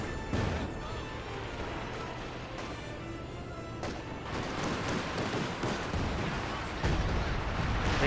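Artillery barrage in Company of Heroes 2, a dense run of booming impacts and crackling gunfire over about eight seconds, the explosions rolling together into a loud, sustained rumble with sharper bursts near the end, and a voice talking over it.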